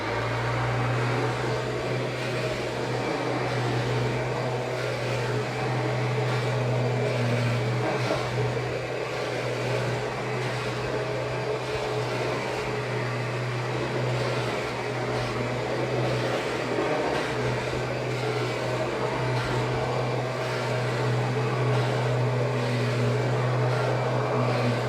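A Kirby Ultimate G self-propelled vacuum cleaner runs in drive mode, giving a steady, continuous motor drone with a low hum throughout and no talking.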